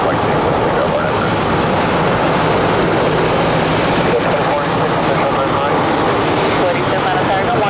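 A jet airliner takes off from runway 9 left at Atlanta International Airport, its engines roaring loud and steady throughout with a broad continuous rumble.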